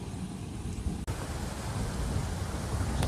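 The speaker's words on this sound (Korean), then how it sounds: "오, 바람이 너무 불어." Strong wind gusts buffet the microphone at a riverside eel-fishing spot, a broad, continuous roar with a brief dropout before the blast builds again, steady and close.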